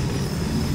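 A cart rolls along a track as it is pulled in the Little Nightmares video game, giving a brief, loud, low rumbling clatter, heard alone.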